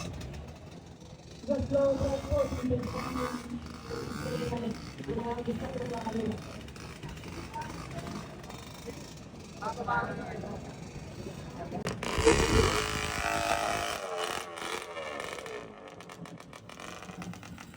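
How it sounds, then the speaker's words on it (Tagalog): Two-stroke motorcycle exhaust revved hard for slow drag racing at a 2T meet, loud rasping bursts rising over crowd chatter, with a sharp, louder rev burst near the end. "Kaya tinetesting niya dyan, napakaingay ng tambucho mga boss Repa."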